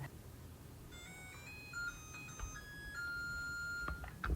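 A thin electronic kitchen timer beeps repeatedly in a steady pattern over a low background hum, moderately quiet and with no one speaking.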